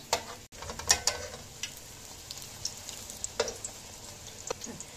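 Sweet puris deep-fry in hot oil with a quiet, crackling sizzle, broken by scattered ticks and light clinks of a utensil near the pan.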